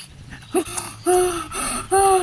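A voice performer imitates wheezy, squeaky panting for an old male character in a Littlest Pet Shop toy wedding roleplay: a quick series of close, breathy gasps with a whistling tone, irregular and fairly loud.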